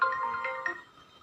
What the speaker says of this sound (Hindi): फोन आ रहा है दोबारा